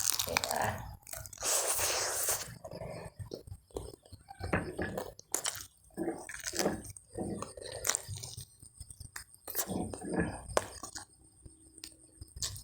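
Close crunchy chewing and biting on spicy Korean fried chicken, loud repeated crunches throughout with wet mouth sounds, near the mic.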